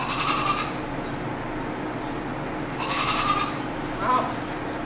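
A goat bleats twice, loud and near, each cry a wavering nasal call separated by a pause, over steady outdoor background noise.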